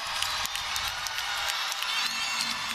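A distant crowd at a college gymnastics meet between Minnesota and Iowa gives a faint, sustained cheer with scattered claps, steady over the whole stretch and muffled in a large arena.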